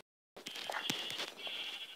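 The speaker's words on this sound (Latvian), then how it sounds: "Reku viena aita." A single sheep bleats in the Minecraft video game, a drawn-out, nasal bleat lasting over a second, with soft voices faintly in the background.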